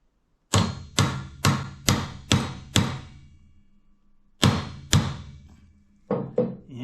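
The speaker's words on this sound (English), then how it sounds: "When I hammer on it, I'll have to keep the band straight when I hammer on it" Hammer strikes on a rivet in the brake band of a 1939 Caterpillar D4 crawler tractor: six sharp metallic blows in a steady rhythm, a pause with a low hum, then two more blows and two lighter taps, close and loud.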